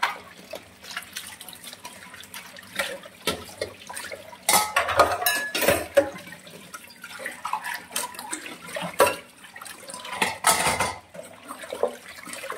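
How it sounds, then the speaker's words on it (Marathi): Washed utensils are set one after another into a mesh draining rack, making repeated close metallic clanks and clatters of dishes and cutlery with some trickling water between them. No one speaks. "भांड्याला जर पाणी लागत असेल तर ह्याच्यात टाकायचं, तिथून खाली गळून जाते ते पाणी"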